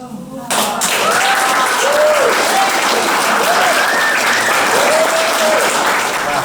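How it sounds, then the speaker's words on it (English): Sustained applause from an audience at a Great Big Green Week event for Camino to COP26 walkers, a dense, loud burst of clapping that starts abruptly and holds steady, with a few voices calling out over it. "that was a great round of applause at the end"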